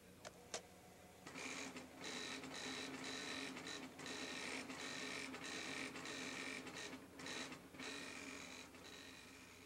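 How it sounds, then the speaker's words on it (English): A TRS-80 Model 4 printer, driven by Superscripsit word-processing software, prints a document. It gives a quiet, steady mechanical chatter of rhythmic bursts that runs through the whole stretch with no voices. "press enter and your printer will spin into action"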